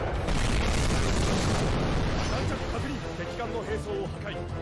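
Naval gunfire from the battleship Bismarck in a warship video game: a dense, sustained rumbling boom of heavy guns with layered blasts, loud and continuous throughout.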